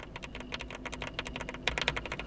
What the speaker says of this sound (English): It features premium gasket-mount internal construction which cushions your typing, resulting in deeper, more dampened sound profile and softer feel.